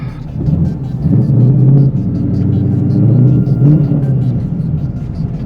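A 2015 wide-body twin turbo Mustang engine idles roughly, a loud close rumble that surges and sags unevenly over a few seconds, with no talk.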